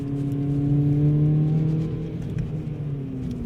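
Volkswagen Polo GTI Turbo driving and accelerating, its engine drone rising in pitch as the revs climb, then easing back to a steady hum near the end; loud, close cabin or onboard sound with no talk.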